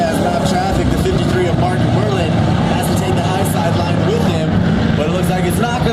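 Stock cars on an oval track at MCR in a pure stock race, engines roaring steadily and close as the pack battles for the lead, with an announcer talking continuously over the racing noise.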